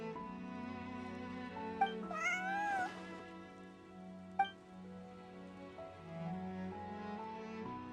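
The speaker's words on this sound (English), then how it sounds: "Meow meow." A cat in Genshin Impact lets out a clear, wavering meow, with a couple of soft chimes over quiet, sustained game music.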